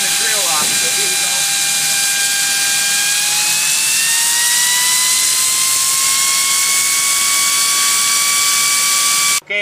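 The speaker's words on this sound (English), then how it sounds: "and then I can run the drill off." A high-pitched electric drill whines steadily, its pitch slowly climbing as it spins up, then cuts off abruptly at the end.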